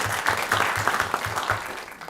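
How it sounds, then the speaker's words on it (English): Applause breaks out at a city council meeting in North Augusta, a steady round of hand clapping from the room, fairly close and unbroken for the whole stretch with no one talking over it. "Let's give them a round of applause for that"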